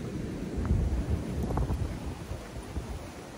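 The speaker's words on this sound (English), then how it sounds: "the wind's blowing out here." Wind blows outdoors in uneven, low-pitched rumbling gusts that buffet the microphone. The sound is moderately loud and steady for a few seconds, with no talking.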